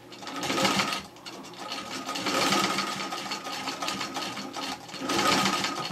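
A Singer Model 15-91 sewing machine stitches through thick patchwork seams on a flat cap, running in steady mechanical bursts that ease briefly between runs.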